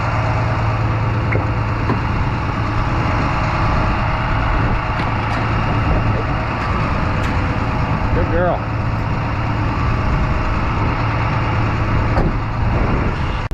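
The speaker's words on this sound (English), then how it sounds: "Got the plow truck outside, getting cold." A township snow plow truck idles outside in cold, snowy weather, its low engine rumble steady and close throughout, with a person speaking briefly over it.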